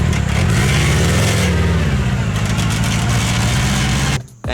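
A small chain tensioner sprocket on a mini trophy truck whirs loudly alongside its running engine and secondary transmission, a steady, harsh mechanical drone held for several seconds before it briefly dips near the end.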